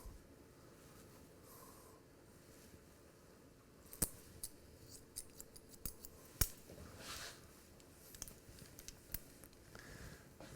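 Scissors snip through a man's hair during a disconnected side part cut with undercut, giving sharp, close metallic clicks at an uneven pace over a soft background hiss, with no talking.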